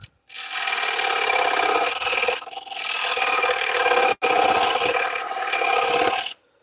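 A carbide scraper rasps across turning wood on a lathe in long, steady scraping passes, close and fairly loud, broken by a couple of brief pauses before stopping abruptly.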